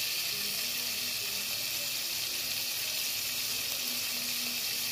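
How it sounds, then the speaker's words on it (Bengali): Shrimp frying in hot oil in a pot, a steady close broadband sizzle with a low hum underneath, continuous throughout with no talking. "তেলটা গরম হয়ে গেছে, আমি এখন চিংড়ি মাছটা দিয়ে দিব।"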